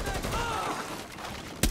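A burst of gunfire in the video game Rainbow Six, rapid shots blurred into a continuous din under a voice, ending in one sharper, louder shot.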